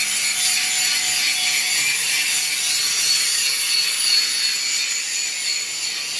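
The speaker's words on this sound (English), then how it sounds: "He's using a grinding disc to take off the main stuff now." A grinding disc works down a weld on a handmade steel front bumper for a Ranger, giving a continuous bright, hissing grind that holds steady and close throughout with no speech.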